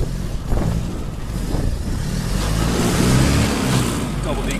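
A 1924 Bullnose Morris Cowley drives at about 20 mph along a road in NJ. The vintage engine drones steadily, close and loud, with rising and falling road noise.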